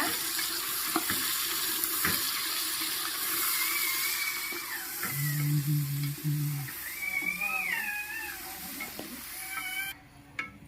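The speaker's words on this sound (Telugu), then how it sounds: "చూసారా మొత్తం ఫ్రై అయిపోయింది అల్లం వెల్లుల్లి పేస్ట్ కూడా ఫ్రై అయిపోయింది" Ginger garlic paste frying in a pan while veg pulao is cooked, a steady close sizzle with stirring scrapes and brief tonal clatter, ending abruptly near the finish.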